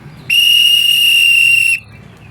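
A traffic officer's whistle shrills in one loud, steady blast lasting about a second and a half, close and alone, with only faint background murmur before and after.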